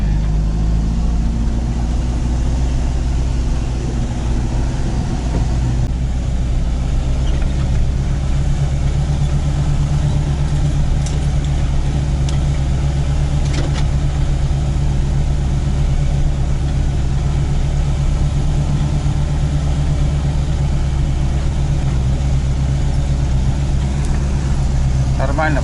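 A car engine drones steadily while driving over wet, boggy and frozen ground toward a forest hut, a loud, continuous low rumble with faint knocks and slight revving throughout, and a person talks over it.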